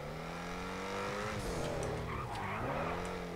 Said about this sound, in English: Trying pretty hard to make the car rev up.